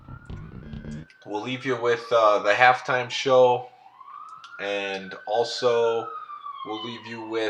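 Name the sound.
sirens in the background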